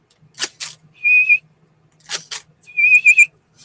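A handheld whistle is blown in two pairs of short chirpy bursts, each pair followed by a longer sustained shrill note, close and clear against a quiet background.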